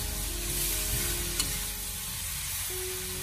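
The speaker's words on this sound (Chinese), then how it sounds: "接下来我们将它继续快速的进行翻炒，把丝瓜和肉片充分的给它翻炒均匀。" Sliced loofah and pork are stir-fried over high heat, giving an even, continuous sizzle with faint stirring and one brief sharp clink partway through. No voices.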